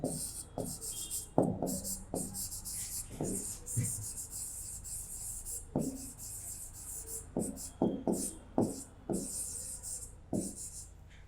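Pen scratching out a quadratic equation on paper by hand, a run of short rubbing strokes with small pauses between them, close and fairly quiet, with steady high hiss behind.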